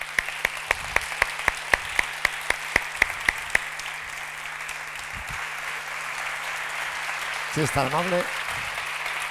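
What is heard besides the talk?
audience applause welcoming author Antonio Muñoz Molina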